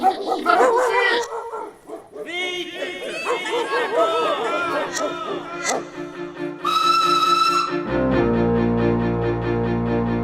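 In a stage play, a dog barks, yips and whimpers in short bursts close by, mixed with excited human chatter and shouting.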